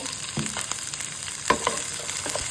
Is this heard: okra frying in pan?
yes